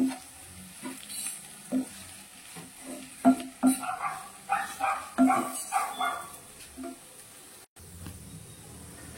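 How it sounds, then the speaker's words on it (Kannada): Coriander and cumin powder are stirred in a hot pan with chilli powder for an egg capsicum gravy, giving a close, uneven series of spatula knocks and scrapes over a faint sizzle. "ಧನಿಯಾ ಪೌಡರ್, ಜೀರಾ ಪೌಡರ್ ಎಲ್ಲ ಒಟ್ಟಿಗೆ ಮಿಕ್ಸ್ ಮಾಡ್ಕೊಳ್ಳೋಣ"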